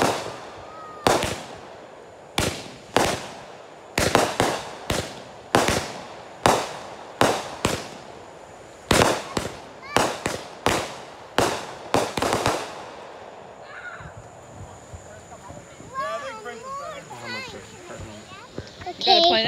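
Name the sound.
Fourth of July fireworks exploding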